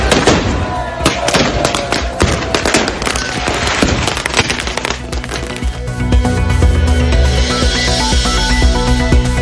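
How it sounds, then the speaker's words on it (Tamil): Gunpowder explosions at a Holi festival celebration in Udaipur, Rajasthan: a dense, loud volley of overlapping blasts and crackling bursts, with no one speaking, easing into a steadier roar and rumble toward the end. "ராஜஸ்தானில் உதய்பூர் மாவட்டத்தில் கன் பவுடர் ஹோலி பண்டிகை கோலாகலமாக கொண்டாட்டம்."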